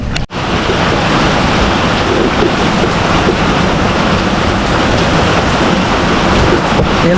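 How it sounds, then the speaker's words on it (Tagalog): Rushing floodwater makes a loud, close, unbroken roar that stays steady for the whole stretch, with no voices over it. "Ayan na po tubig oh."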